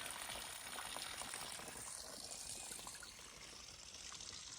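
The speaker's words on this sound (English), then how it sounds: "Finally got ourselves a little bit of water." Trickling water at a mountain trail water source on the Alta Via 2 trek, a steady, soft, close dribble and splash running the whole time with no talk over it.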